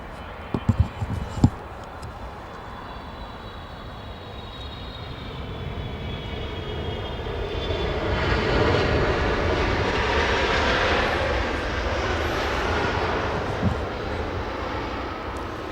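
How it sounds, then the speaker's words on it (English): A Turkish Airlines Boeing 777 lands at LAX, its engine roar building gradually from a distant whine to a loud, broad rush that peaks past the midpoint and lingers; a few sharp knocks sound near the start. "that big 777 Turkish land right in front of us"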